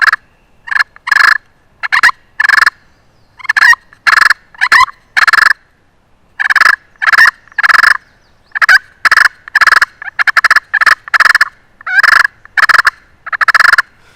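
Rapid bursts of a fighting purr imitated on a friction turkey call, loud and close in quick, uneven clusters with short gaps, the striker now and then slipping.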